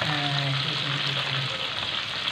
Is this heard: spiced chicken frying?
yes